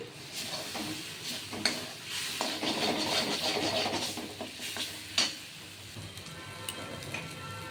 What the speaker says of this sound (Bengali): এটা সুন্দর করে কষিয়ে নিতে হবে